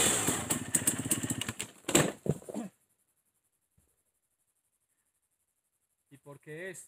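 Enduro dirt bike engine running during off-road riding, a close buzzing motor with rapid pulses for about two and a half seconds before cutting to silence, then faint low sounds near the end.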